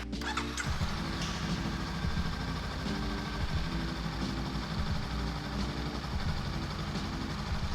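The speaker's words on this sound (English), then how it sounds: "sorry, the exhaust is a little loud" A motorcycle engine fitted with a loud exhaust idles with a deep, rumbling note, steady and close, with a few faint clicks at the start.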